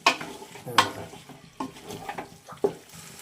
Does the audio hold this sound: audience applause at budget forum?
no